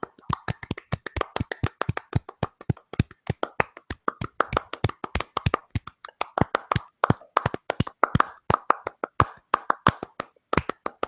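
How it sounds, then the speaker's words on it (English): Steady, sharp hand clapping repeats in a fairly regular rhythm, close and distinct, like a small group or single person applauding. "Round of applause for you."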